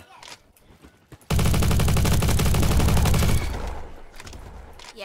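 Loud burst of rapid automatic gunfire in the Roblox shooting game Bad Business, a dense sustained volley lasting a couple of seconds before trailing off into quieter shots.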